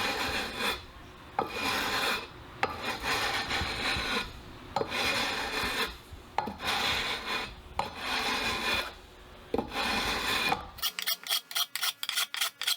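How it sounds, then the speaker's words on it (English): A sanding beam with 320-grit paper levels guitar frets in long rhythmic strokes, about seven loud close rasping passes, then quicker, lighter, choppier scrubbing at the end. "Leveling the frets with this sanding beam,"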